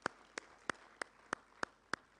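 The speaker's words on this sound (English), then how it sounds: "Let's give him a round of applause as he takes it." Seven sharp hand claps at a steady, even beat ring out faintly at a symposium on KCCA grounds, with near silence between claps and no speech.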